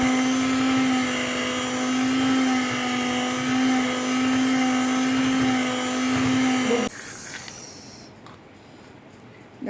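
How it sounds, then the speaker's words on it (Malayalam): An electric hand mixer beating cream with powdered sugar and vanilla essence, a steady loud motor whine with a constant pitch that cuts off about seven seconds in, leaving quiet room tone. "ക്രീമിലേക്ക് നമുക്ക് ഒരു 1/2 ടീസ്പൂൺ വാനില എസൻസ് കൂടി ചേർത്ത് ഒന്നുകൂടെ നല്ലപോലെ ബീറ്റ് ചെയ്ത് കൊടുക്കുക"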